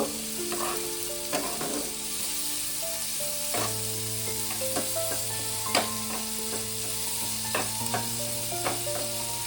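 Chopped onion and slit green chillies fry in a pan with a steady, moderate sizzle, accompanied by occasional spatula clicks and a faint background hum.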